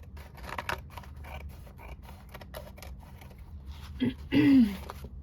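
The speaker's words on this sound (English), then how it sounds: "And now we're just going to trim off the napkin." Scissors trimming a napkin glued onto cardstock for handmade ephemera, a string of faint close snips and paper rustles, then a louder crinkle and a brief vocal sound near the end.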